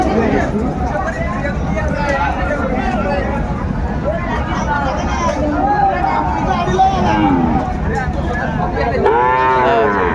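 Sahiwal cattle at a busy livestock market bellow in repeated loud moos over constant crowd chatter and nearby talking.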